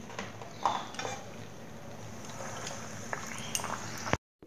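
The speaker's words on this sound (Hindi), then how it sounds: "बाकी के भी इसी तरह फ्राई कर लेती हूँ" A crispy layered snack deep-fries in hot oil with a steady bubbling hiss and a few clinks of a utensil against the pan, ending in a brief cutout.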